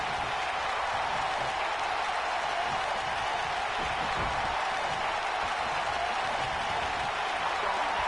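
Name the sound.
crowd cheering in WWE video game Universe Mode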